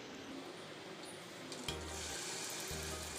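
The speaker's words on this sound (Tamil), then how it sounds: "நம்ம கலக்கி வச்சிருக்க பேட்டரை இப்போ ஃப்ரை பண்ணி எடுத்துக்கலாம்." Malpua batter frying in ghee in a pan, a quiet steady sizzle with a faint bubbling hiss, joined by low clunks of the pan or utensil partway through.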